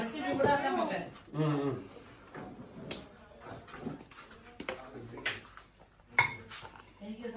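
Plates and cutlery clink intermittently at an Easter meal, sharp light metallic taps scattered among people talking and laughing nearby.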